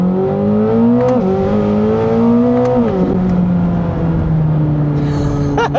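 A Corvette ZR1 engine drones loudly and steadily on canyon roads, its pitch climbing and then dropping as the car shifts, with a constant heavy road roar underneath.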